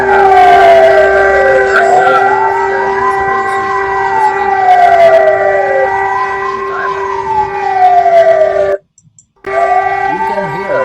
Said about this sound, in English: You can hear the sirens in China.